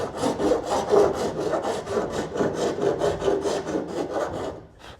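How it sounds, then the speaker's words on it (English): Four-in-hand rasp filing along the edge of a kayak deck, a steady run of quick rhythmic rasping strokes, close and fairly loud, with no talking, fading out at the end. "So basically 4 different files in your hand, so the 4-in-hand rasp."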